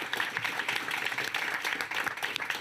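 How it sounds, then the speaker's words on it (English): A conference audience claps for the panelists at a blended finance fund design event, steady dense applause filling the room with no voices. "just want to offer them a big round of applause."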